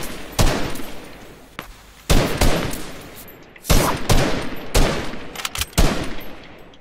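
Sniper shots ring out in an online first-person shooter during a duo match, several sharp loud cracks spaced about a second or more apart, each with a decaying tail.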